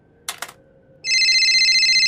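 A telephone rings loudly and continuously with a bright, trilling electronic bell, starting abruptly after a couple of soft clicks and holding steady for about a second.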